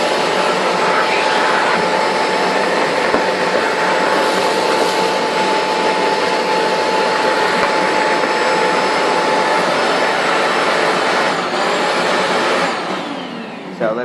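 A shop vac with a rigid extension tube and rigid floor head roars steadily at close range, a loud continuous whine that holds for most of the time before tapering off near the end.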